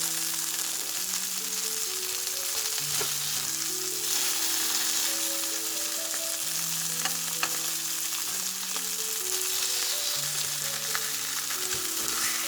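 Spicy catfish nuggets frying under a lid in a covered pan, a constant crackling sizzle with occasional sharper pops, close and even throughout, with faint background music beneath.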